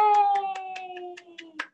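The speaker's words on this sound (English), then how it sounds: "Watch how the grown-ups clap their hands." Adults at a baby-time singalong clap hands in a steady run of about eight claps, close and clear, over a sustained sung note.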